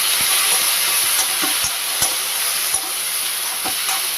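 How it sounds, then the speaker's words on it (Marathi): Ivy gourd (tendli) frying in a little oil with salt, a continuous close sizzle with regular soft taps of stirring. "इथे तेंडली मी थोडंसं तेलामध्ये फ्राय करून घेतली 2 ते 3 मिनिटं."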